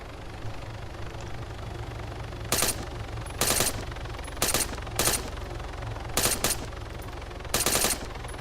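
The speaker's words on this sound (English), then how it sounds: "Shoot the tires out, Lou." Gunfire in the video game Arma 3 during a four-player co-op Wasteland match: six short bursts of automatic fire over a steady engine hum, loud, spaced a second or so apart.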